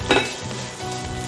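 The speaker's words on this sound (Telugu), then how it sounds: "ఆయిల్ వేసుకొని దీన్ని బాగా ఫ్రై చేసేసుకుందాము." Poppy seeds fry in oil in a pan with a steady, close sizzle; a brief metallic clink sounds near the start, and no one talks.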